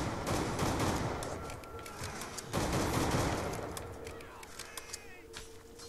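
DSR sniper rifle firing in Black Ops 2 Zombies on the Buried map: a burst of sharp gunshots up front, then scattered lighter shots and game clatter fading into the background.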